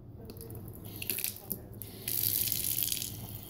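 Tap water runs into a sink in short splashing bursts, then becomes a louder steady stream near the end, close by with no talk.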